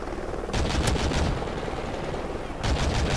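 Rapid machine-gun bursts in a Call of Duty Ghosts multiplayer match, two or three clusters of crackling gunfire over a constant rumbling backdrop that may hold helicopter rotor noise, moderately loud with no talk.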